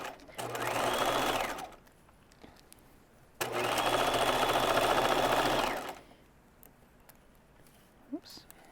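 A sewing machine stitches the pocket seam of cigarette pants in two steady runs, a short one and then a longer one, each stopping cleanly, with a quiet pause between them and faint handling noise afterward.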